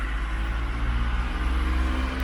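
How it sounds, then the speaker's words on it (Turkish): Road traffic heard from a hotel balcony, cars and a truck rumbling past close by, a steady engine drone with a low pulsing throb and no voices. "Of ne kadar araba geçti ya. Kamyon geçti."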